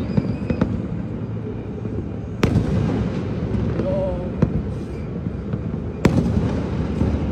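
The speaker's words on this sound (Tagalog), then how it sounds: "The fireworks are beautiful." New Year fireworks in Manila bang repeatedly, sharp cracks standing out over a dense, continuous crackle and rumble of distant bursts, with faint voices in the background.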